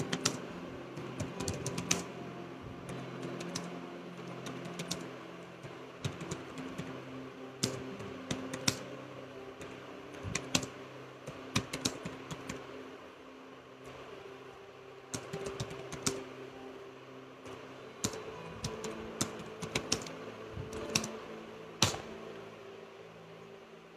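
Fingers type on a laptop keyboard, a steady run of quiet key clicks with occasional louder taps against a low background hum, and no talking.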